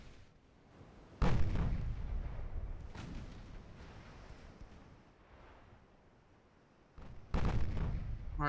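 Heavy naval guns, 8-inch, firing in Ultimate Admiral Dreadnoughts: two deep booming salvos with long rumbling decay and a fainter thud between, over low sea-and-wind ambience.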